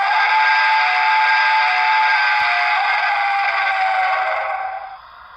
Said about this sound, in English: We'll go ahead and blow the whistle here.